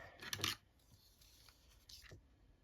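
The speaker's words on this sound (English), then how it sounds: "Might need to snip that." Scissors snip through packaging for a collage, giving a close, quiet crisp cut near the start and a fainter second snip about two seconds later over soft rustling.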